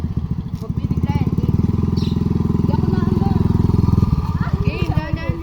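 A motorcycle rolls slowly during a riding lesson, its engine a loud, close, steady pulsing idle-like putter that holds for several seconds before easing off, while people talk over it.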